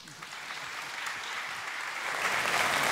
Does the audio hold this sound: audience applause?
yes